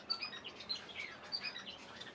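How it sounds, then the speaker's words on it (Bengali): Lovebirds chirp in a bird shop setting, with quick high tweets repeating in a steady chatter, fairly faint and close, with no voices over them. "আর দেখো লাভ বার্ড, দাদার কাছে সব আছে।"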